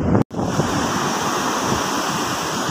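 Rough sea surf rolling onto a beach under strong wind, a continuous loud roar of breaking waves and gusty wind buffeting the microphone, with a brief dropout near the start and no voices.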